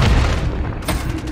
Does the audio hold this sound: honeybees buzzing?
no